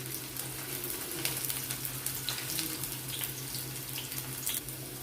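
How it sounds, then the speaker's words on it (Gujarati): Chopped onions sautéing for about a minute in a pan for Chinese rice, giving a steady, fairly quiet sizzle with a low constant hum and soft crackle throughout, no talking. "1 મિનિટ જેવું કાંદાને આ રીતે સાંતળી લઈશું"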